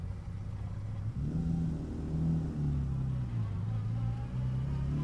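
A 1950 Ferrari 166MM Le Mans Berlinetta pulling away in first gear, its engine drone rising and falling in pitch as it builds revs, close and steady with a rumbling low tone, no talking.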